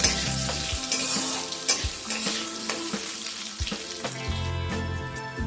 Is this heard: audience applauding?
no